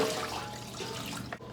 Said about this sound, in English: Let's rinse these in some water.